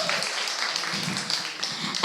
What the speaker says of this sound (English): Please give a big applause to Henry